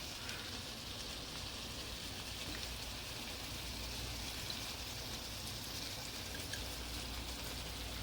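Ground meat browning in a hot pan for stuffed bell peppers, giving a steady, dense sizzle and crackle that runs unbroken and fairly close for the whole stretch, with no voices over it.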